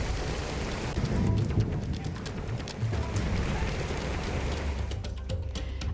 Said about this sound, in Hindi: रुक कर लगातार कई इलाकों में बारिश हो रही है